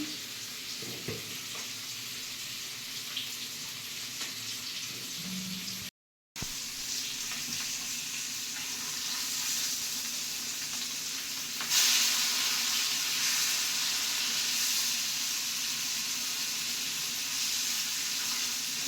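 Fish coated in masala fries in a pan, a loud close continuous sizzle with a brief dropout, swelling brighter partway through as more fish or oil goes in, with no talking.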